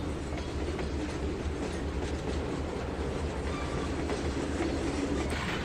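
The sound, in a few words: train running on rails in video game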